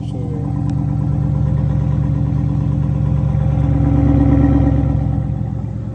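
A Chrysler 300S with straight-piped exhaust and resonators cut idles close by in a deep, steady rumble with a faint swell partway through, no voices over it.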